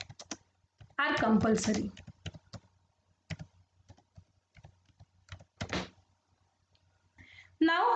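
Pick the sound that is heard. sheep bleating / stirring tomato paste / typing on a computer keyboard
typing on a computer keyboard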